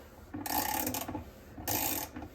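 LG top load washer pulsator being tightened clockwise during reassembly, two bursts of grinding, ratcheting mechanical rubbing separated by a short pause, fairly faint and close.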